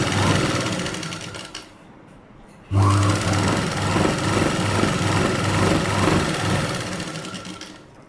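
A sewing machine runs steadily while stitching a blouse belt, a loud continuous motorized whir that cuts out briefly before starting again and running unbroken to the end.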